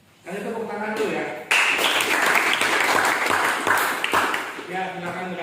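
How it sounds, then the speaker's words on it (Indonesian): Classroom applause breaking out after a brief moment of talk, a burst of hand claps from a group of students that swells, holds, then fades as a voice returns. "Kasih tepuk tangan dulu ya."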